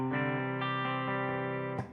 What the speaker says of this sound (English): So here's the clean sound.